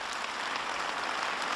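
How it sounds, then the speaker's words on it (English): A crowd applauds after a Barack Obama speech, producing steady dense clapping at a moderate distance with no clear cheering voices, brief and even throughout. "Crowd goes wild"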